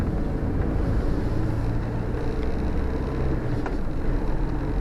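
A Renault Master van's engine drone and road rumble fill the cabin while driving, continuous and moderately loud with a little wind noise.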